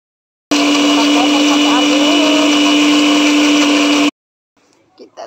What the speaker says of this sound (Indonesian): Pertama-tama kita blender dulu bumbunya, bawang putih, kemiri, dan bawang merah.